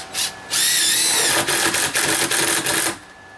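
A power drill drives 4-inch screws at an angle through a replacement exterior support post into a 4x6 inside the wall, whirring loudly in rapid pulsing bursts, close up with no talking.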